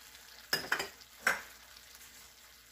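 Shrimp and chayote squash sizzle in a pan seasoned with soy sauce, salt and black pepper, with two or three short bursts of scraping as the mixture is stirred over a quiet frying hiss.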